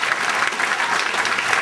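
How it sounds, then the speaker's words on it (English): Audience at a comedy show in Lancaster breaks into steady, dense applause for a comedian, loud and continuous with no talking over it. "Give it up for Marc"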